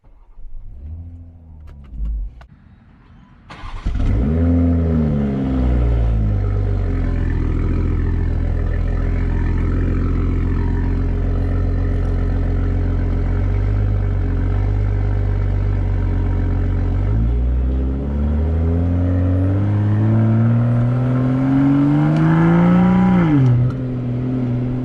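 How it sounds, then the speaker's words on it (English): BMW M340i engine starts up and pulls away in Sport Plus, a low mechanical whir rising into a strong steady engine drone that swells with acceleration and throttle changes, close and loud, with no talking. "I'm here in the M340i, and I'm going to go drive the same roads I just did in the M5 in this car."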